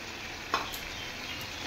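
Fried small shrimp dropped into a pan of taro greens, giving a short stirring clatter followed by a steady, close sizzle with no voices.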